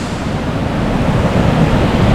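Strong water from the Cascajales spring rushes toward the Guadiaro river near Benaoján, a loud, steady broadband roar without a break, with no voices over it.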